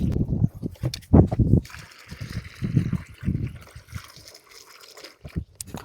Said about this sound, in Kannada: ನೀರು ಹಾಕೊಂಡು ಗಪ್ರಿ